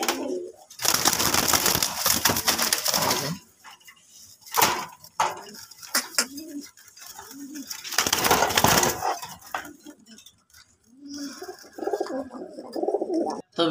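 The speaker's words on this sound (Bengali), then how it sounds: "এই যে দেখতে পাচ্ছেন এই যে খুবই শর্ট ফটা কবুতর" Pigeons in a shop coo and flutter in loud bursts, with pauses between them. Faint clinks are heard in the background.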